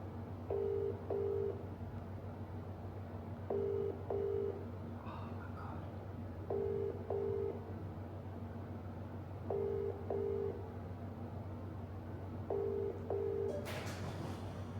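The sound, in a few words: WhatsApp call ringing tone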